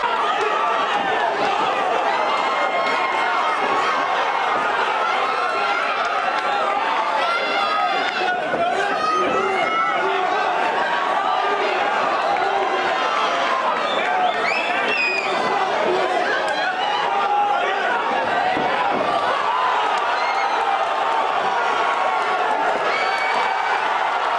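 Dense crowd noise fills an MMA fight venue: a steady roar of overlapping chatter and shouts with bursts of cheering, continuous and loud throughout.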